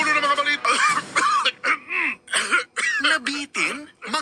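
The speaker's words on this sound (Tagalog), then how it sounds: "Laban sa dry non-stop ubo, kati sa lalamunan due to post-nasal drip at sakit sa kakaubo." Repeated dry, non-stop coughing from a radio advertisement for cough medicine, harsh bursts recorded close and loud, with a voice speaking among them.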